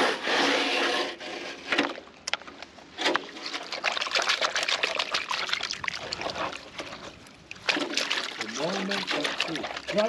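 Gold concentrate from a high banker's gold hog mats being panned in water, with gritty scraping of gravel against the pan, sloshing and trickling water, in close repeated swirling bursts.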